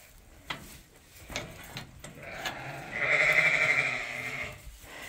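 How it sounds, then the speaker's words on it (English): Sheep and white lambs in a farm pen give a few short, faint calls, then one loud, wavering bleat swells up close for over a second before it fades. Soft knocks and shuffling sounds come in between. "There's some white lambs you can play with."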